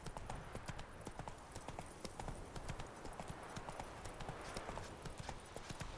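Hooves of Roach, a horse in The Witcher video game, beat out a brisk, continuous clip-clop, quiet but regular, with faint speech in the background.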